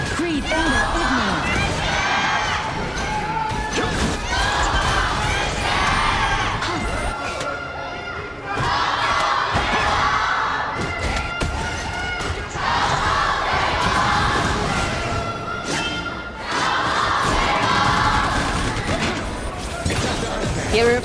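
A large esports crowd roars and cheers continuously, loud and dense, with swells and brief dips in intensity throughout.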